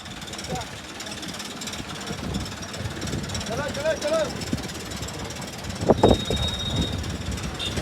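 A motorcycle engine putters and idles amid a traffic jam on a mountain road in Uttarakhand, with a louder rev near the end and voices talking nearby.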